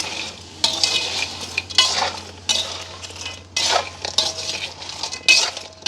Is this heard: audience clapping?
no